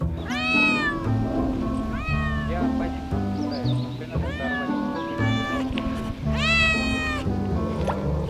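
A domestic cat meows repeatedly and loudly in drawn-out, wavering calls, close by, on a construction site where foam insulation boards are being laid into formwork. Background noise runs underneath.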